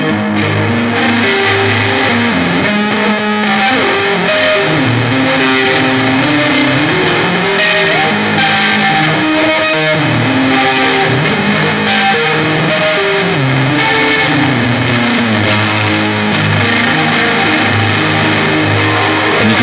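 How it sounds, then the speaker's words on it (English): Guitar played through a modulation effect feeding into a distortion pedal, a thick, saturated, wavering chorus-like tone held continuously at high volume, notes shifting throughout with no talking. "Let's run the modulation into the distortion for something a little bit more traditional."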